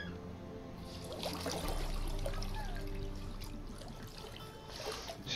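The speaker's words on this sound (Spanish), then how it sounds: "Ya está otra vez bañándose este." In the video game The Witcher 3, Geralt bathes in water: soft trickling and gentle sloshing play over a low, sustained musical drone, fairly quiet and steady.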